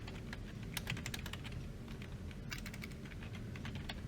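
Rapid clicking keystrokes on a computer keyboard as a file name is typed, close and continuous with irregular bursts, no voices.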